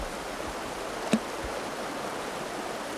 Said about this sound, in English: This is the River Meavy.